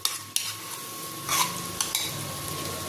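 Masala curd is stirred into a vegetable curry of stuffed brinjal in a pot, with a few sharp utensil knocks and scrapes over a soft sizzle, no voices.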